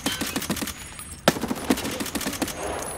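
Rapid automatic gunfire in Escape From Tarkov, a quick run of evenly spaced shots, a sharp louder crack, then another fast burst, close and loud.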